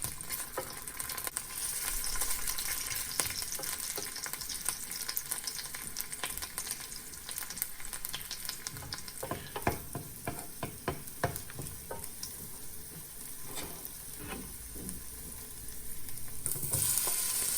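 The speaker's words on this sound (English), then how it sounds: "After it is warm, fry the ginger. Stir fry till they are golden shiny." Ginger stir-frying in a warm pan for tofu: a continuous crackling sizzle with clusters of spatula scrapes and clicks growing busier midway, close and moderately loud, with no voices.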